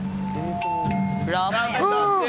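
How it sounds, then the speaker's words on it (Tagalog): In a reality-show house, a doorbell rings out a brief two-tone chime, after which voices start talking. "Ding dong!"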